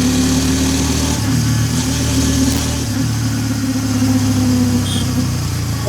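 Hero Extreme 160R 4V Pro motorcycle engine running steadily in traffic, a loud close drone with a slight rev change midway and other traffic noise around it.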